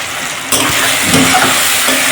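Potatoes frying in hot oil for a Bengali fish curry, a steady close crackling sizzle that swells louder after the first half second and holds on without talk.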